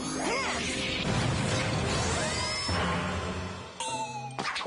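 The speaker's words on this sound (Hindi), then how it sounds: "लगता है घंटी बजा लेनी चाहिए।" A bell dings in a Hindi-dubbed cartoon, its bright ring mixed into a loud, busy burst of crashes and whooshes with a short tonal chime near the end.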